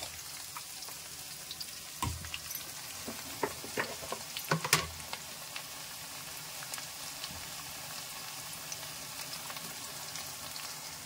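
Onion and spices such as ajwain and fenugreek seeds fry in hot oil in a pan, giving a steady soft sizzle. A few sharp clicks of utensils break through near the middle.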